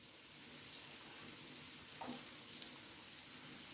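Raw jackfruit kababs with a corn flour coating frying on medium heat in a pan, a soft steady sizzle running throughout with one brief sharp crackle near the end, close and fairly quiet.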